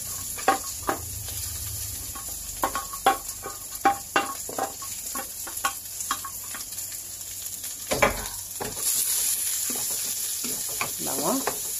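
Onion, garlic and ginger sizzle steadily in a hot pan, with repeated spoon scrapes and stirring knocks across the whole stretch, close and moderately loud, while a cooking dish of shells in coconut milk gets underway.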